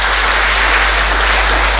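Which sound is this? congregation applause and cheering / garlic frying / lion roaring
congregation applause and cheering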